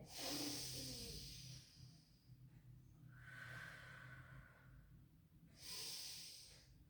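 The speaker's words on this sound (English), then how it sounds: "In breath. Out breath." Slow, audible breaths in and out during a barre pilates exercise, soft hissing inhales and exhales close to the mic with quiet pauses between them.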